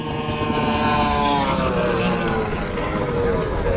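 Drag racing boats roar at full throttle on the water at a drag boat race in Winchester, a loud continuous engine drone holding steady throughout with no pauses.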